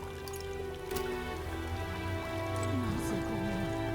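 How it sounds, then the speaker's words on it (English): Steady patter of rain falling in a video game, a soft continuous hiss under a low hum, with faint chiming tones and a brief voice-like sound near the end. "Aha, it's raining."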